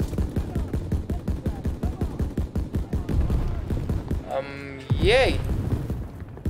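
Call of Duty WW2 gunfire rattles in fast, evenly spaced bursts close by, then breaks off as a short spoken cheer and a rising whistle-like effect cut in near the end.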